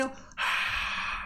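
A single breathy vocal burst imitates a crowd cheering, rising after a short intake into a sustained airy hiss that lasts about a second.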